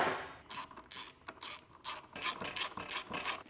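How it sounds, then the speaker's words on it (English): Torque wrench clicking on a seized Honda motorcycle engine, heard as a quick run of close, fairly quiet ratcheting clicks and scrapes in an even rhythm throughout. "I heard the torque wrench click."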